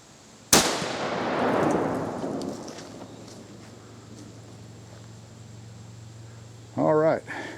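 A single loud rifle shot from a Weatherby 300 Magnum cracks sharply outdoors and rolls into a long, fading echo, followed later by a short burst of wind or handling noise.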